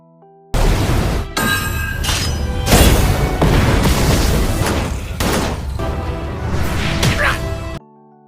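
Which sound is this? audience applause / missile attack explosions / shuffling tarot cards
missile attack explosions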